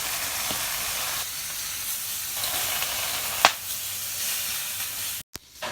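Pork sausage sizzles and fries steadily in an electric pot, a dense, close hiss with a brief louder crackle midway and a short dropout near the end.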